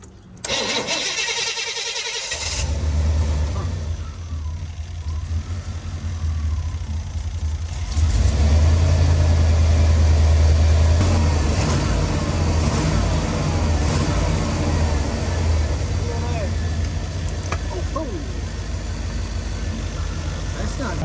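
A 4x4 van's V8 engine turns over, then runs with a steady throaty rumble that swells as it revs higher partway through, sounding short of all eight cylinders under load.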